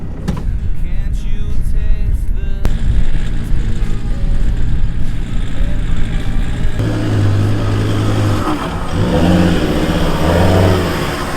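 A 4x4 climbing a sand dune runs its engine loud and close, holding a steady, strained drone with rising revs and a rumbling low end throughout, with no speech over it.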